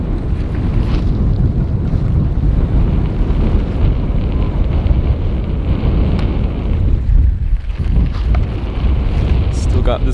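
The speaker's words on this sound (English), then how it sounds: "Still got this wind." Strong wind in Alaska buffets the microphone in a constant, loud low roar that lasts the whole stretch, with no clear voice over it.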